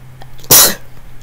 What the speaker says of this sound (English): That's my happy sneeze.